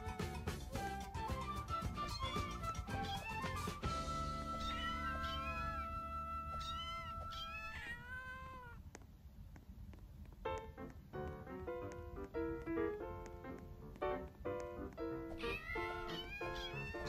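A kitten in the Roblox game Catastrophic meows repeatedly in short rising and falling cries, clear and fairly close over a continuous game music background.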